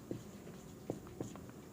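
A pen or chalk scratches out short strokes during a Class 10 math lesson on linear equations, three or four quick faint taps and scrapes in a quiet room.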